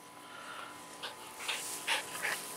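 A dog pants in quick, breathy bursts close to the mic, faint and uneven, with a few sharper huffs toward the end.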